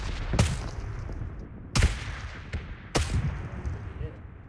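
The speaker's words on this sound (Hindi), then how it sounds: "गोली चला देगा 2 सेकंड बाद आओ गोली" Gunfire in a video game: three sharp, loud shots spaced about a second apart, each with a short rumbling tail, over a steady background.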